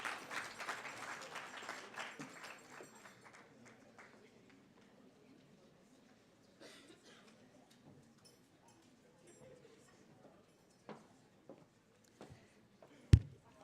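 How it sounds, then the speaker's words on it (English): Applause from an audience at an IOM Kenya International Migrants Day event greets the closing speaker, the Chief of Mission, fairly loud at first, then thinning to scattered claps and light room noise with a sharp knock near the end. "Let's give her a warm round of applause."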